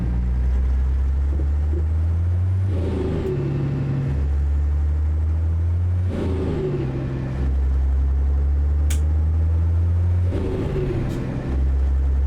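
A Peterbilt 351 truck engine in American Truck Simulator drones loud and low, climbing in revs and dropping at each gear shift in a repeating cycle, with no talk.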